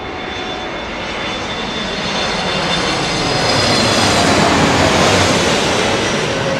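A propeller airliner landing at Heathrow in low-pressure conditions, its prop shifting into beta pitch, makes a loud, steady roar that swells slightly over several seconds, with no talking.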